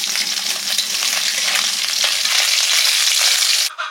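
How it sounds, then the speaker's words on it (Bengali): Kakal fish sizzling in hot mustard oil make a loud, steady crackle with stirring scrapes mixed in, close up, before the sound cuts off abruptly near the end; no one speaks. "কাকাল মাছে রান্না করব, সর্ষের তেল দিলাম,"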